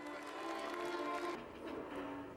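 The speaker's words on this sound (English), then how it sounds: "A round of applause for my gladiators!" Crowd applause for gladiators at a Roman games reenactment, a brief burst of distant outdoor clapping with faint cheering.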